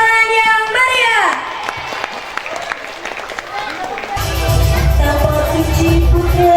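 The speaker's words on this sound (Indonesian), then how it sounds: "Beri tepuk tangan yang meriah" An audience at a school graduation and farewell event applauds a pencak silat display by primary school pupils. The clapping swells into dense, continuous applause near the end, after music and an announcer's voice.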